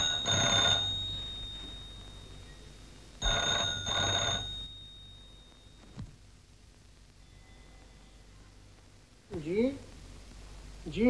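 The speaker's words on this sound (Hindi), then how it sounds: "सरकार आपका फोन।" An old-fashioned telephone bell rings in two long bursts in a 1950 Hindi film scene, quite loud against a faint room hum, and then a voice speaks briefly near the end.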